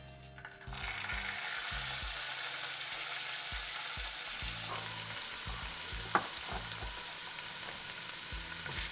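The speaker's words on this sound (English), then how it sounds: "now we'll add the ginger garlic paste" Ginger garlic paste sizzles and fries steadily in melted ghee with cumin seeds for a dhaba-style dal tadka, a loud continuous crackle with soft stirring scrapes and a sharp clink near the middle.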